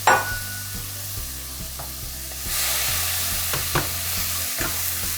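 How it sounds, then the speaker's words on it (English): Pineapple juice sizzles and steams as it deglazes a pan of pineapple pieces, a steady hiss broken by scraping stir strokes and light utensil clicks against the metal, with no voices. "we're kind of deglazing the pan with the pineapple juice in there"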